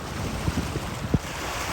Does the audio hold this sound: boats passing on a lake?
yes